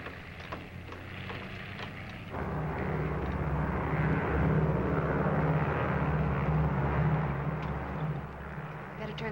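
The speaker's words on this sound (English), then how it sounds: "United Airlines mainliner service flight 608 from Los Angeles," An airliner rumbles in while a United Airlines mainliner from Los Angeles arrives at the gate, its steady engine roar swelling after a couple of seconds and holding loud and near.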